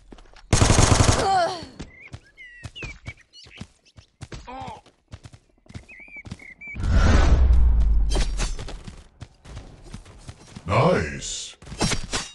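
Gunfire from the mobile shooter Guns of Boom crackles in sharp bursts and single shots, including a long rattling volley, mixed with game announcer callouts and effects.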